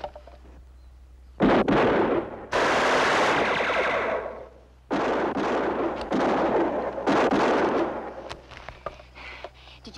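Heavy gunfire from armor-piercing rounds erupts in loud, dense bursts and sustained volleys with short gaps between them, booming and reverberant in an old 1958 film scene.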